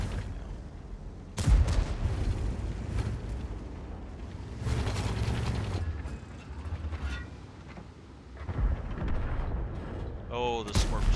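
Tank cannon shots in World of Tanks, a few heavy booming blasts spaced several seconds apart with mechanical creaks and rumble between them, while someone commentates over the gameplay.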